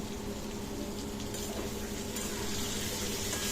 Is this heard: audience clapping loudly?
no